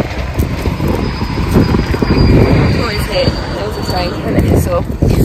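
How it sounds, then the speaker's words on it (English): A train passes nearby, its rumble swelling and fading over a few seconds while people talk close to the microphone. "Oh, there's a train coming."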